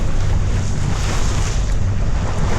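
Sailboat motor sailing on a beam reach at about half engine power with the jib set, giving a steady low motor drone blended with strong wind and water rush, continuous and close, with no talk.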